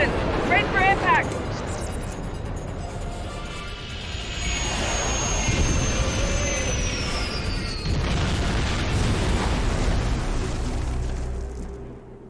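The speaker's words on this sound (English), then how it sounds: "Get us on the ground, Commander. Crash position. Ready for impact." A starship crash landing in the Star Trek Online game: a loud, sustained roaring rumble with a descending high whine and heavy boom-like impacts that fade out at the end.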